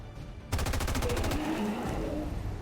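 A burst of rapid automatic gunfire from the XCOM 2 video game begins abruptly after a short pause, a fast string of loud shots that blurs into a ringing tail, with no voices.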